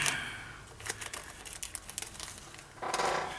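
Sharp scissors snip through craft material at close range, a run of short crisp crinkling cuts over about three seconds with a louder rustle near the end.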